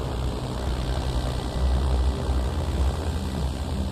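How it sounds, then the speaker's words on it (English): A small propeller airplane takes off from a runway, its engine and airscrew giving a loud, steady, broadband roar that swells slightly midway and continues without a break, close and dominant with no talk. "runway 15, clear for takeoff."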